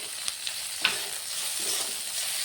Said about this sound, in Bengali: আদা রসুন আর পেঁয়াজটাকে একটু ভালো করে আমি ভেজে নিয়েছি।